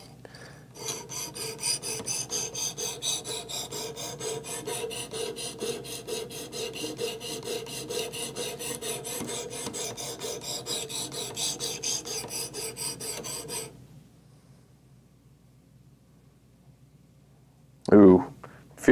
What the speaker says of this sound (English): when you're sharpening your knife, you don't want to push down hard